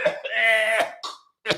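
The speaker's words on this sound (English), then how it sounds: "Get the coughing off to the side." A woman gives a few throaty coughs and throat clears, close and loud, separated by brief gaps of silence.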